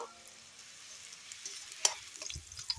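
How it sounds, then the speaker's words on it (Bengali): Potatoes and carrots fry quietly in a pan as a gentle, steady sizzle, with a few sharp clicks and scrapes from stirring toward the end. "আলু আর গাজরটাকে ভালোভাবে এখানে ভেজে নেব"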